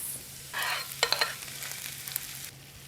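Finely chopped garlic clove sizzling and frying in a pan as the base for beans, a steady close hiss with a few stirring scrapes and clicks, no voices.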